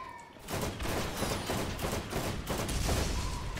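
Rapid gunfire from the video game Borderlands, a dense run of bursts and shots repeating steadily for several seconds, loud and continuous over game background noise.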